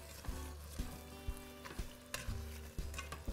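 Garlic and onions fry in a pressure cooker pot while being stirred, a steady sizzle punctuated by regular knocks and scrapes of the spoon against the pot, close and clear.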